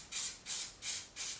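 An airbrush lays a dust coat of water-based paint onto plastic in four short, even hissing bursts with brief pauses between them, close and moderately loud, with no voices.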